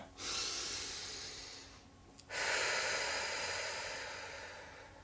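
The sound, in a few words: deep breathing during guided meditation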